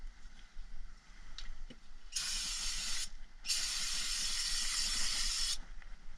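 Brake cleaner sprayed onto brake parts from a Ford SVT Lightning during a brake job: two bursts of loud, close aerosol hiss, a short one then a longer one of about two seconds, with faint clinks before.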